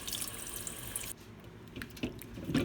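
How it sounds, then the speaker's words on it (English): Tap water runs over vegetables in a sink to wash off heavy dirt, a close steady splashing stream that drops to softer drips and spatters. "I'm just washing off all the heavy dirt first"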